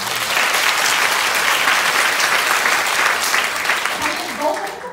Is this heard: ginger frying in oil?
no